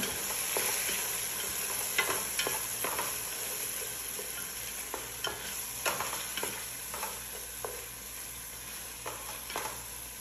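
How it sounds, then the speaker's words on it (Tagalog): Tomato frying in a pan and being stirred, with a continuous moderate sizzle and repeated scraping stirs spread through the stretch and no talk. "At i-add ko na rin itong tomato. Mix ko lang siya."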